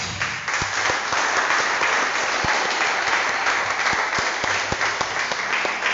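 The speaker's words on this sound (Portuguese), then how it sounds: "Aplauda o Senhor Jesus." A church congregation applauds loudly and continuously, a dense wash of clapping with a few sharper individual claps standing out.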